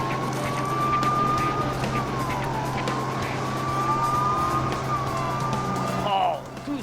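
Police car sirens in the video game LEGO City Undercover wail steadily over a constant engine drone and game background noise, rising and falling for several seconds before cutting off near the end.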